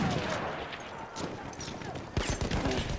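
Gunfire in the video game Battlefield 1, a battlefield mix of rapid rifle and machine-gun shots with heavier blasts, close and loud, sharpest near the end, with a player's voice over the action.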